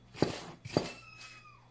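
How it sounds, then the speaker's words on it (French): In a home kitchen during cake baking, a cat gives a faint, brief meow after a couple of short thumps, with no talking. "L'entendez-vous quand il miaule?"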